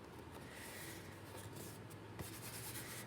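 Faint, steady rubbing and scraping of a glue stick pressing paper onto a cereal box cardboard, continuing without pause.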